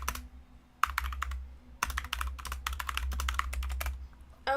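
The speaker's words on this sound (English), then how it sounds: "I was typing at some things on the channel" Bursts of typing on a computer keyboard, quick clattering keystrokes in several runs separated by short pauses, close and alone over a low steady hum.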